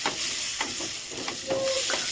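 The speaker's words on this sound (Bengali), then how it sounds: "এই সবজিগুলো আর একটু ভেজে নেব" Vegetables for a chicken stew sizzle steadily in a hot pan while a utensil scrapes and stirs in short, repeated strokes, close by.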